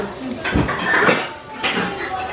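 Metal pots clanking as they are handled and set down at an outdoor Indonesian Independence Day games event in Sweden, a few close rattling clatters with people talking over them.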